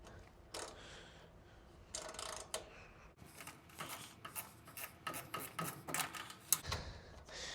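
A hand ratchet loosens a part inside a Maytag top-load washer during a control board replacement, producing faint, close rasping clicks in short irregular bursts with no talking.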